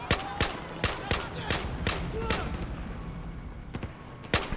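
Sharp gunshots in the Battlefield 4 campaign: irregular single cracks and short bursts, fairly close, spaced through a firefight with background rumble, with a player talking in between.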